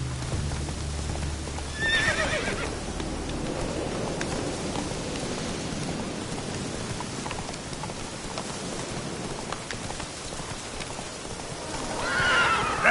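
Roach, a horse in The Witcher 3: Wild Hunt, gives two loud whinnies, one near the start and one at the end, over steady clip-clop hooves on what may be rain-soaked ground, with no talking.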